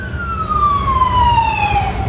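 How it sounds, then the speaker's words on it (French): An ambulance siren wails with a long, steadily falling tone, loud and close, passing along a road as traffic rumbles underneath. "Ambulance."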